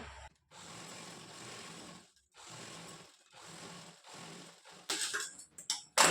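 A sewing machine stitches the neck edge of a lace blouse in several short bursts separated by pauses, quiet and close, with a few sharp handling knocks at the end.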